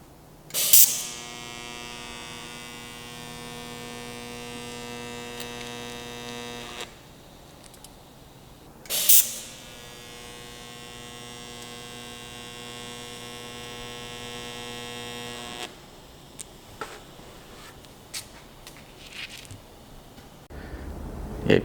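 Fork stem being tack-welded onto a Honda triple tree while fitting CBR forks to a CB1100F: two long, steady electric buzzing welds of about six seconds each, each opening with a crackling arc strike, separated by quiet shop pauses.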